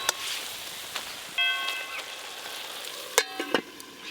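Fried bitter gourd tipped into a pan of cooking greens gives a soft sizzle with a few stirring scrapes and clinks, while a cat meows in the background.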